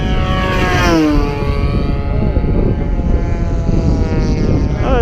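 A radio-controlled warbird, from a group of 20cc–30cc gas models such as a Corsair, Zero, PC-21 and Yak-3U, drones loudly and steadily on a short landing approach, its propeller whine sliding in pitch as it passes close by.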